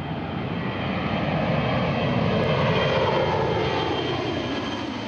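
Steady, loud roar of C-17 transport aircraft engines close by, a continuous broadband drone holding level throughout with no talk.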